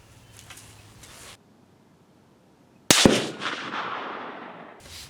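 A single sharp rifle shot from a Steyr CISM rifle at an outdoor range, loud and close, its report trailing off into a long fading echo after a quiet pause.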